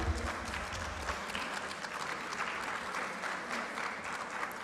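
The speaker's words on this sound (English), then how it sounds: "A round of applause for Barney Motley." A women's conference audience in Lusaka, Zambia, applauds continuously, a dense wash of many hands clapping at a moderate distance, with a low rumble at the very start.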